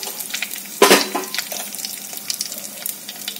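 Urad dal and mustard seeds hit hot oil with a sudden sharp crackle, then settle into a steady close sizzle with scattered popping.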